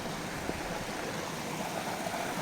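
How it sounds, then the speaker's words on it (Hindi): Continuous rushing of a river stream flowing along a mountain trekking route from Gulmarg toward Khilanmarg and Apharwat Peak, a steady close wash of water with no speech. "और यहाँ से नदी है."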